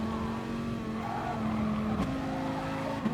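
Dodge Viper Gr.3 race cars howl around Spa Francorchamps in Gran Turismo, giving a continuous loud engine drone with shifting pitch and a brief tyre squeal.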